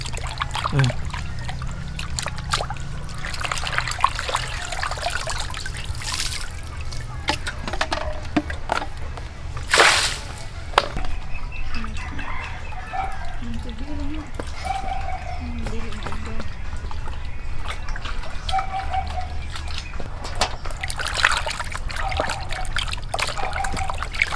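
Water trickles and splashes steadily while raw pork is washed outdoors in a Filipino bagnet cooking setup, with voices talking over it and occasional clatter nearby.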